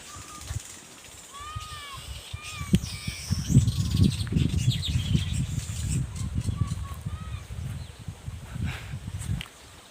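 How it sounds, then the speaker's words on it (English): Birds chirp and call around an African village in Nyabohanse, high whistles and short tweets over a busy layer of low rumbling and movement, fairly faint and scattered throughout. "the birds."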